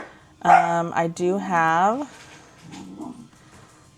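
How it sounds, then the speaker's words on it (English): A dog barks and yips a few times in quick succession close by, with whiny, pitched vocalizations in a short burst, while a voice speaks briefly over and after it. "Sorry about my dog."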